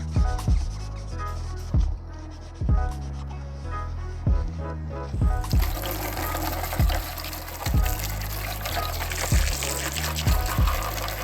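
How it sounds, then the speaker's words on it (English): A hose pipe rinses out a plastic windscreen washer bottle with clean water, water pouring and sloshing with irregular knocks and gurgles, turning into a louder, fuller gush partway through. "take it to the hose pipe, give it a hose down, wash it all out with clean water"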